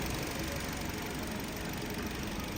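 A 2017 Kia Rio with a 1.6 engine and automatic gearbox running at idle, a steady, even drone with constant low vibration and no change in pitch, heard close with no voices.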